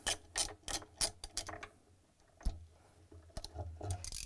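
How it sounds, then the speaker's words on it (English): A 13 mm socket wrench ratchets as it loosens a bolt on the counterweight of a Samsung washer tub. Bursts of close, rapid clicking come in quick runs with short pauses between them. "That would be a 13 millimeter socket wrench."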